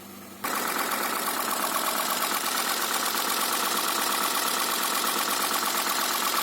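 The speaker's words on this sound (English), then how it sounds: "It sounds kind of funny because there's an exhaust leak in here." A car engine idles steadily with a rough, ticking rasp from an exhaust leak, starting up loudly after a quieter moment and continuing without talk.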